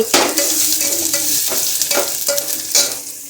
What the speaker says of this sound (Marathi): आम्ही इकडं बीन्सची भाजी करत आहोत फोडणी जळी भाजी